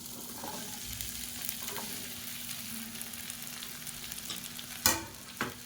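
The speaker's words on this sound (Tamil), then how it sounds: "இப்போ அந்த வெண்டைக்காயை சின்ன சின்னதாக கட் பண்ணி வச்சுருக்கேன், அதை சேர்த்துக்கலாம்." Small chopped okra pieces fry in hot oil, a steady crackling sizzle with a low hum underneath, broken near the end by two sharp clanks of a utensil against the pan.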